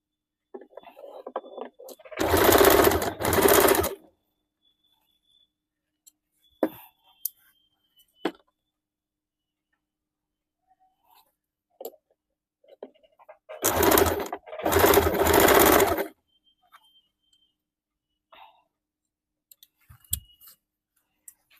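A sewing machine stitches a blouse lining and fabric with a tack stitch, two loud bursts of about two seconds each, separated by quiet handling clicks and rustles.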